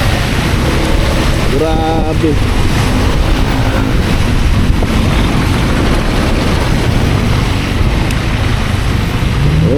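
Heavy rain pours during a night motorcycle ride, a dense, steady roar of rain and wind rushing across the microphone throughout, with a brief exclaiming voice over it.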